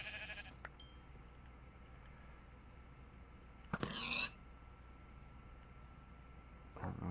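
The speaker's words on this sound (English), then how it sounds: "I heard a sheep up here too." Sheep bleating in the Minecraft video game: one short burst stands out midway over a quiet game backdrop, with a couple of fainter bursts near the start and end.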